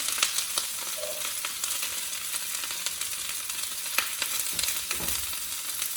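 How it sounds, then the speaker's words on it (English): Cabbage sizzles steadily in a hot frying pan, a continuous broadband crackle with scattered sharper pops and a brief stir or scrape near the end, no voices. "So I gently just putting the cabbage in there."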